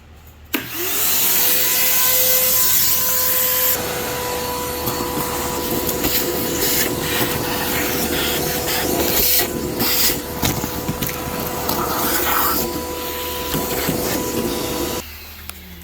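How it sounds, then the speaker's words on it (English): A vacuum cleaner whines steadily and loudly for about fifteen seconds, with rubbing and scraping bursts as the nozzle works along the hard second-row seat tracks of a Chevrolet Traverse, then cuts off. "grab your handy dandy vacuum and just start going at it"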